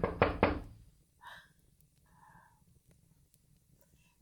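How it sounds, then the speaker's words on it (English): Three quick, firm knocks on a door sound close and loud at the start, followed by quieter faint movements and rustles in a hushed room. "Who knocks?"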